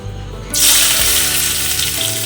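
Onions added to very hot oil for biryani: a sudden loud burst of sizzling that starts abruptly and then continues as a dense, steady crackling hiss close by.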